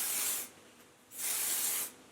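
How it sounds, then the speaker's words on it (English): Heat protectant spray sprays onto hair in two short aerosol bursts, each a close, soft hiss lasting about half a second with a brief pause between. "So we're gonna spray it on to every other piece."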